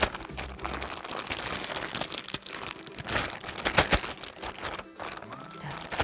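Crinkly plastic rustling and crackling in irregular bursts as an air-filled zipper bag holding herb soap mixture is shaken and handled, with a few soft knocks.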